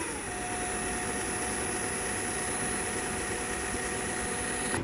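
A Vrill VIW2350 impact wrench runs at its lowest variable speed, a steady whirring motor hum with a faint high whine. It holds an even, close level for about five seconds with no talking.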